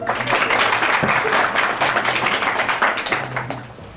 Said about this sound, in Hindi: सो एक बार तो जोरदार तालियां अपने लिए बजा लो.